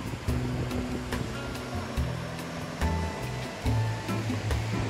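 Surf washing onto a beach in North Goa, a steady rushing roar that swells and eases, with gusts of wind and low background hum.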